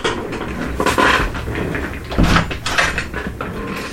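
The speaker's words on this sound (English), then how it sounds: "I've opened the door." A door is opened indoors, with several knocks and clunks of the handle and frame, close and fairly loud, and no talking.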